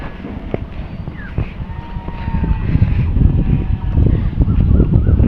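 Wind blows in a low, gusty rumble across the microphone, rising in strength partway through and holding steady, with faint tones in the background.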